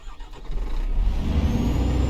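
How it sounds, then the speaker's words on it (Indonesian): A truck engine in Euro Truck Simulator cranks and catches, building from a brief starter churn into a steady low rumbling idle, close and alone. "Hidup akan mesin."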